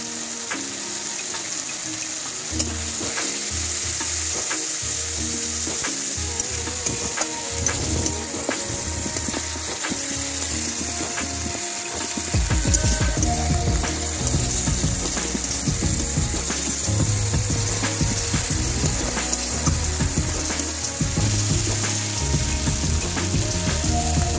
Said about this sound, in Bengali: তারপরে আদা আর লঙ্কা বাটাটা দিয়ে দিলাম।